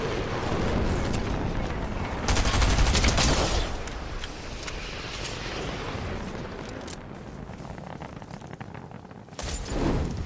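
Fortnite gunfire crackles in dense bursts, a loud cluster of rapid shots near the middle and another at the end, with scattered sharp reports and busy noise between them.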